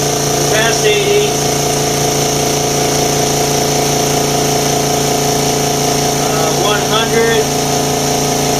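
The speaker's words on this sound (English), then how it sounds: "It's definitely one of the quietest home compressors I've heard." A Makita MAC700 Big Bore 2.0 HP air compressor runs with a steady, loud motor hum and drone, and a voice speaks briefly over it twice.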